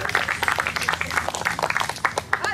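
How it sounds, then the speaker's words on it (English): An outdoor audience at a memorial garden celebration claps in a loose, moderate round of applause, the individual claps close and uneven, with some voices mixed in. "let's have a round of applause for them"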